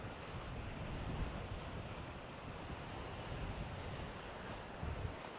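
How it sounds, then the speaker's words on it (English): Wind blows along the coast in a continuous rushing hiss, buffeting the microphone at a low, steady level, with no voices. "Hopefully you can still hear me despite the wind."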